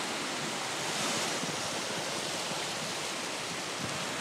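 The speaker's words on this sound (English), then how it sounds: "this is the sea pool at Bude" Sea waves at the Bude sea pool make a continuous broad rushing wash, steady and enveloping with gentle swells, with no voices.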